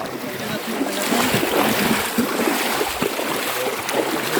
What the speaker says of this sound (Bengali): আমরা সবাই পানির মধ্যে দিয়ে যাচ্ছি